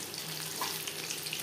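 Pakoras fry in hot oil as they are flipped, a soft continuous sizzling hiss with small crackles and a light scrape of turning, fairly quiet and without talk.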